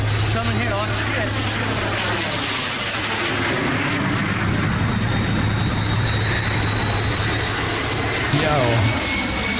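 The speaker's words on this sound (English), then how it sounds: "Watch this satisfying airplane drop old footage." Old footage of an airplane flying low overhead, its engine roar loud and continuous with a slowly shifting whine, broadband rushing noise throughout.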